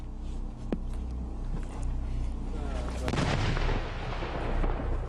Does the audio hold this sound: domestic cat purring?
no